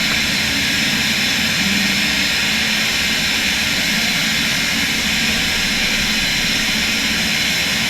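Simulated jet engines of an Air Canada airliner spool up as it rolls for takeoff on runway 24 right in a flight simulator, a steady broad roar that holds at an even loudness throughout, with no talking.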